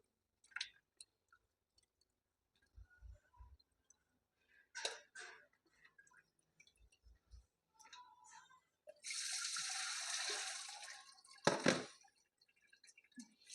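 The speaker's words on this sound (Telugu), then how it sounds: "ఇలా ముక్క మునిగేదాకా ఇలా నిండుగా నీళ్ళు పోసుకొని శుభ్రంగా కడుక్కొని" Water is poured into a bowl to wash pieces of fish for a village-style curry, with a few soft splashes and handling sounds, then a longer steady pour, and a sharp splash near the end.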